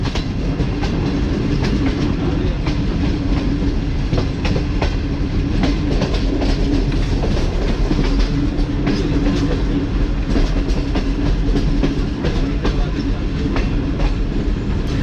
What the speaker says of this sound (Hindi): तो तकरीबन 1 घंटा 40 मिनट लेट हमारी ट्रेन पहुंच चुकी है गुजरांवाला स्टेशन पर